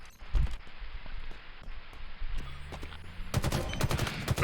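Halo gunfire from a battle rifle and a Needler in a multiplayer King of the Hill match, with scattered bursts of shots building into a louder, denser volley toward the end.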